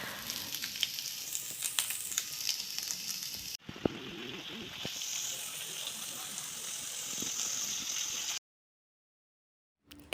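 Small fish fry in a pan with chopped onion leaves, a steady crackling sizzle with sharp pops that runs for several seconds, breaks off briefly, resumes, and then cuts to silence near the end.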